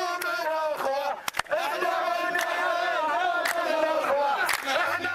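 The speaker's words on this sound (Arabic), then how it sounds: "هتافات أطلقتها حناجر المتظاهرين تطالب الحكومة السعودية بسحب قوات درع الجزيرة من البحرين" Street protesters in Awamiya chant slogans together, a crowd of voices rising and falling in rhythmic shouted phrases, with sharp bangs or claps punctuating the chant.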